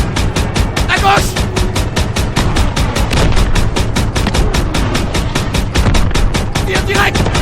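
Dense, rapid automatic gunfire from the World War II shooter game Call of Duty: WWII, a loud continuous fusillade of shots with occasional booms, while players call out to each other over it.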